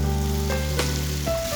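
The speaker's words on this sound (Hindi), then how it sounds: "जो फ्राई किया हुआ गोश्त है ना, वो डाल लेंगे।" Fried mutton hitting cooked spices in a hot pan sizzles loudly and continuously, a dense close hiss with a brief stir or scrape partway through.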